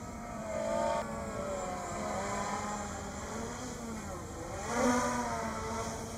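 Zero Zero Robotics Falcon Mini drone flying in sport mode, its steady high-pitched motor whine holding fairly close throughout and rising in pitch and loudness in brief surges near the start and again near the end.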